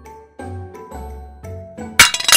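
Toy dishes from a dollhouse knocked and moved, giving a few light clinks and taps with short ringing tones, then a brighter clattering jangle at the end, close and alone.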